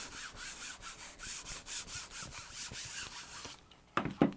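A gel printing plate being scrubbed with steady, rhythmic back-and-forth strokes, a close, dry scratchy rubbing that stops near the end before a couple of brief knocks and handling sounds.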